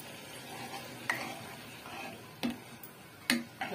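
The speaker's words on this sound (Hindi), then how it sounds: "इसको हम अच्छे से उबलने देंगे" A potato vegetable curry simmers in a pan, giving a quiet background hiss broken by a few sharp pops and bubbles at irregular moments.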